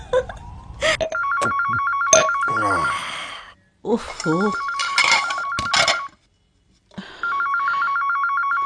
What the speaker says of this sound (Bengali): ফোন বাজে, ধরো না কেন?